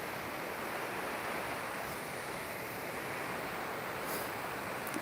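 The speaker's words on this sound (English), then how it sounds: "He seems to be filming the flow of water in." Flowing stream water on an outdoor walk, a steady broadband rush of moderate, even loudness without pauses, with no voices over it.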